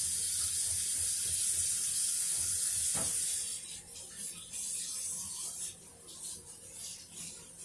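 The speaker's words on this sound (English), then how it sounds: "first thing we're going to do is wash our hands" Tap water runs steadily into a kitchen sink during handwashing with soap, a soft close hiss that eases and wavers partway through, with faint background sounds and no clear speech.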